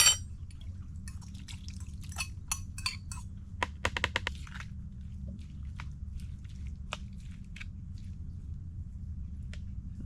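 Raw tuna kinilaw with onions is stirred in a bowl in a mangrove outdoor kitchen, giving a run of small wet clicks and taps against the dish over a low steady background hum, quiet and close, with no talking.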